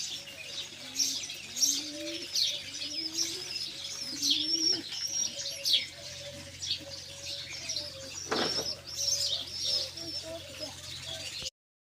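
Pigeons perched up high after being fed and given water, cooing in repeated soft rolling phrases near at hand, with chirps from other birds and a brief flutter of wings, an occasional voice faint beneath.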